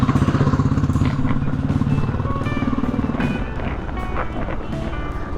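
Motorcycle riding through Bangalore traffic, the engine throbbing with a steady pulsing beat up close, mixed with wind buffeting, passing traffic and scattered horn toots.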